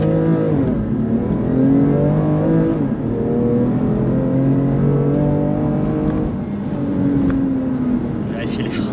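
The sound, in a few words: BMW M2 Competition accelerating at full throttle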